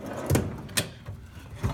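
A toolbox drawer slides and shuts with a couple of dull thumps and a brief rattle, close by and moderately loud with no talking.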